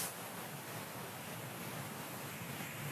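Ocean waves wash in a soft, continuous broadband rush, faint and even, with no voices.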